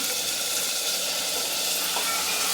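Chopped onions dropped into hot oil in a pan, giving a steady close hiss and sizzle that holds evenly for a few seconds with no voices.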